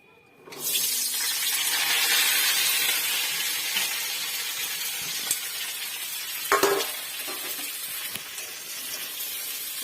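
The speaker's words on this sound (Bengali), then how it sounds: "এবার এই ক্যাপসিকাম আর পেঁয়াজটা আমি তেলের মধ্যে দিয়ে দেবো" Capsicum and onion dropped into hot oil, a sudden loud sizzle that stays steady and close, with a few clatters and stirring knocks partway through.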